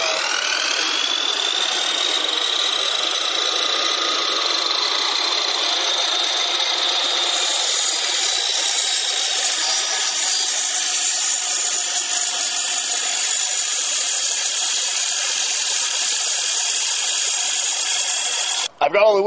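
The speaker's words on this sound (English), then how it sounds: "cutting a piece of wood that's way too big for the saw." A power saw cuts steadily through an oversized piece of wood with a loud, sustained whine. Its pitch drifts during the long cut, and the tone drops sharply as the blade finishes near the end.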